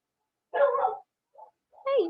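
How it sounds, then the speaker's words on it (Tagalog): Dogs bark in a short outdoor burst, two loud barks split by a quieter yip, with no talk over them. "umiingay na ang mga aso"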